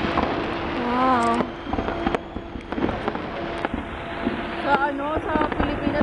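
New Year fireworks pop and crackle in scattered bursts at a distance, sharp reports cutting through while people nearby chat and exclaim.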